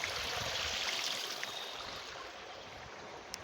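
A forest river with a waterfall in Uttarakhand, a faint, steady rush of flowing water with soft hiss and no voices, even throughout.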